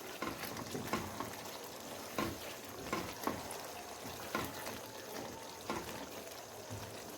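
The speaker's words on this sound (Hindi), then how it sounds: "अब हम इसको अच्छे से करेंगे भुनाई, ताकि इसका पानी जो है वो इस टाइम पे अब ड्राई हो जाना चाहिए।" Beef karahi meat and masala frying in a pan, sizzling steadily as it is stirred, with repeated scraping stirs at an uneven rhythm, close and moderately loud with no talking.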